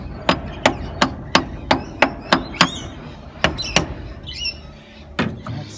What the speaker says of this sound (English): we just do what you're not supposed to do and tap that on with a hammer.